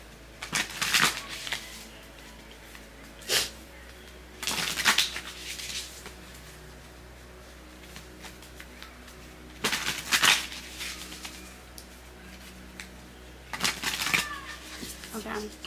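Practical Self-Care Oracle deck cards shuffled by hand in four bursts of riffling, each a second or two long, close and moderately loud, with quiet gaps between and a faint steady hum underneath.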